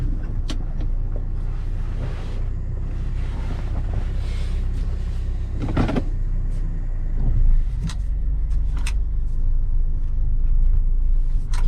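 A car driving on the road after a steering wheel installation and alignment, with a constant low rumble and wind noise throughout and a brief louder swell partway through.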